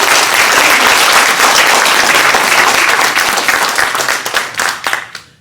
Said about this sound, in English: can we just get a round of applause for everybody who just came out?